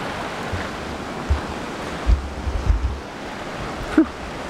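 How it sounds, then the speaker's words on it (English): Heavy rain falls in Big Thompson Canyon near Estes Park during flash flooding, heard as a broad steady wash with wind buffeting the microphone in low rumbling gusts, close and loud. "It just keeps raining"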